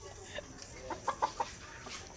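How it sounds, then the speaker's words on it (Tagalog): A lean fighting rooster held in someone's hands gives a quick run of soft, close clucks, three or four notes in a short burst over low background noise. "Hawakan mo Kuya Dam kung anong kang kita mo sa manok, yan ang katawan niya"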